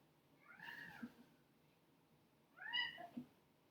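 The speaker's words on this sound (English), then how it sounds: "Oh, kitty." A house cat meows twice, soft and fairly close, the two drawn-out calls separated by a short pause in a quiet room.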